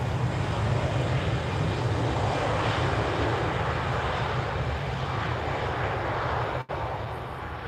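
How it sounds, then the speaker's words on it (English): Jet airliner taking off at Lisbon Airport on a cloudy, windy evening, heard as a steady, fairly distant broadband engine roar that holds constant throughout. "Let's see if we can spot this takeoff."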